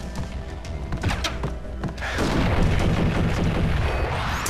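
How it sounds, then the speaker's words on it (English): A grenade goes off in the Max Payne video game, a heavy boom that bursts in around the midpoint and rolls into a loud, sustained rumble, following a stretch of scattered thuds and gunfire. "Grenade."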